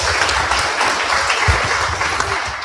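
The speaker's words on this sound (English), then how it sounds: "Let's give him a round of applause." An audience at a university festival day applauds a person who was just honoured, with steady, full crowd clapping throughout, loud and even with no pauses.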